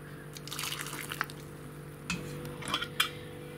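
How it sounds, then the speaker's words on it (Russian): Hot brine is drained from glass jars of pickled cucumbers with gooseberries and red currants: soft trickling liquid with a few sharp clinks of glass and lids, close and moderately loud, with no voices. "Повторно сливаю жидкость из банок. Горячая."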